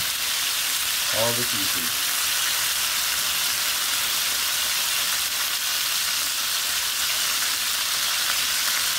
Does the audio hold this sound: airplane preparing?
no